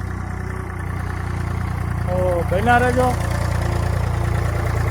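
A tractor being loaded at a sugarcane fodder centre in Borvav Gir runs with a steady low engine rumble throughout, while someone talks over it.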